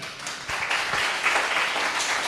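An audience in a church claps together, a dense, loud burst of applause that swells quickly and holds steady for a couple of seconds, with no speech over it.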